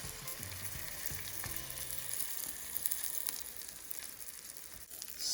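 Hot tempering with chopped chilies is poured onto cooked lentils for Sindhi dal and hisses with a loud, steady sizzle close to the pan, with no talk.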